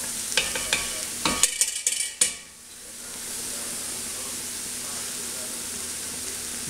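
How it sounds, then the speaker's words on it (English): Garlic browning in a pot for squirrel jambalaya, with a few quick clacks of stirring at the start, then a steady close sizzle and hiss that carries on alone. "Brown that garlic just a little."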